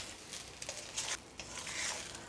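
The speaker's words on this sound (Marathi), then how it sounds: "काळी मिरी पावडर घालायची थोडी आणि परतून घ्यायचं आहे" Egg fried rice with salt and black pepper powder is tossed and sautéed in a hot pan, making a quiet, soft sizzle with gentle scraping stirs in short bursts.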